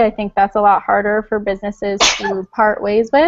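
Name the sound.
sneeze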